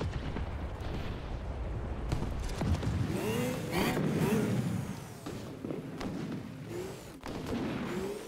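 A tank cannon firing in the War Thunder video game, an M48 battle, with a sharp onset around two seconds and a loud, sustained rumbling roar and engine-like noise filling the rest of the stretch.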